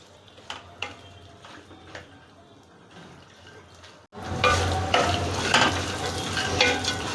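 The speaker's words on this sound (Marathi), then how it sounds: "अक्रोड आणि पिस्ता. छान तळून घ्यायचा." Walnuts and pistachios stirring and frying in a pan for methi ladoo, a quiet stretch of faint scraping giving way to a loud, steady sizzle with repeated stirring clatter.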